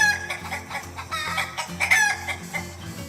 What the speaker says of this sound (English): It made the chickens squawk.